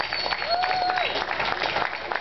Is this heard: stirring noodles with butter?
no